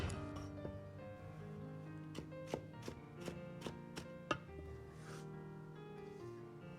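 A kitchen knife chops a thick slice of crushed fresh ginger on a cutting board, with about eight sharp, evenly spaced taps that come close and fairly clear over soft background music.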